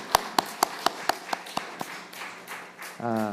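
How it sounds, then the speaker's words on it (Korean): Sparse claps from a church congregation welcoming newcomers during a Sunday worship service: about eight sharp, evenly spaced claps near the start, thinning into a softer patter before a voice begins speaking at the end. "크게 박수 해주세요"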